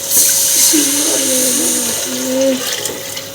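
Gram flour mixed with water pours into kadhi made with sour lassi, a close steady splashing trickle lasting a few seconds, with a faint voice underneath.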